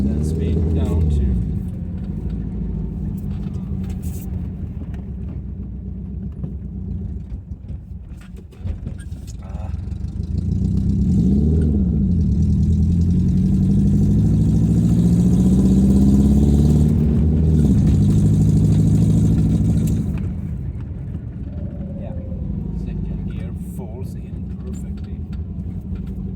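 Old barn-find car engine running while driving, rising and falling in a steady mid-low rumble with gear changes and a swell of acceleration mid-clip, a person talking over it.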